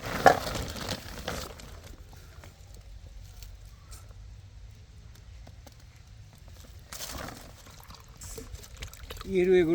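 Water poured from a plastic bottle into a container for wild birds in a forest during summer, a soft trickle and splash with people talking nearby and occasional rustling.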